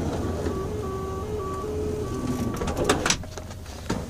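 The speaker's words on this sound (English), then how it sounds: "and the door shuts." Sliding door of a 2003 Chevy Venture wheelchair-accessible van closing automatically, a steady mechanical whir with faint beeping tones, ending in a couple of sharp clunks as it latches, nearby with no talk.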